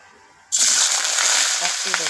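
Small pieces of chikki tipped into a hot kadai set aside for fasting cooking, bursting into a sudden loud, steady sizzle after a quiet start.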